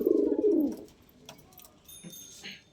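Pigeons coo in a loft, a loud low throaty coo at the start that fades into quieter rustling and faint chirps.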